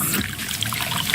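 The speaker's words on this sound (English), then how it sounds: "Listen to that cascading liquid." Coke Zero Sugar pours and fizzes in a steady close-up rush of liquid with a dense crackle of bursting bubbles, continuous and fairly loud throughout.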